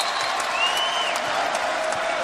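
A crowd applauds and cheers in an arena at an NCAA women's volleyball regional final between UCLA and Minnesota, a steady, dense wash of clapping that holds at an even level throughout.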